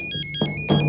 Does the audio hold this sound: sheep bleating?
no